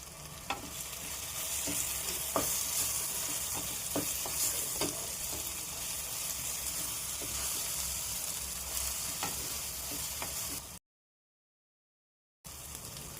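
Roasted cumin, fenugreek and mustard powder stirred into softened tomato in a pan for tamarind rice, a steady close sizzle with repeated spoon scrapes and taps, then a brief gap of silence.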